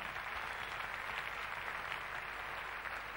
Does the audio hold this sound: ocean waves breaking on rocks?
no